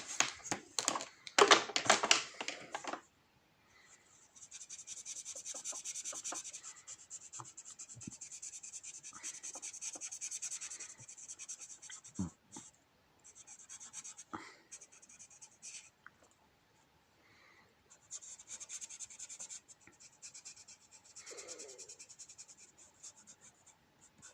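Pencil colouring shapes on a sheet of paper, soft scratchy back-and-forth strokes in sustained runs with brief pauses, after an initial louder rustle of handling.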